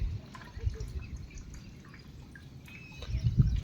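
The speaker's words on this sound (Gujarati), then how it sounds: "જો આ રીતનું પાણી ટપકે ને એટલે કૂવામાં પાણી તરે સારો આવે" Water dripping into a farm well after rain, scattered drips and small splashes, close and fairly faint over a quiet background, with a few louder drops near the end.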